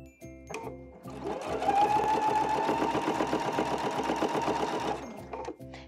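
A sewing machine runs in one continuous burst, stitching a shirt sleeve placket with a fast, even mechanical chatter, close and clear, starting and stopping cleanly.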